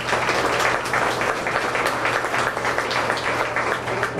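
Spectators at a county fair beef cattle show applaud the exhibitors, a steady, dense patter of clapping heard from a distance over a constant low hum.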